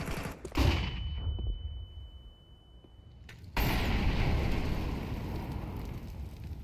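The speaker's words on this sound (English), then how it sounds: "Throwing a flashbang." A flashbang grenade in a video game bursts with a sharp bang, then a thin high ringing tone hangs over a muffled lull before a loud rush of gunfire-like noise and rumble returns.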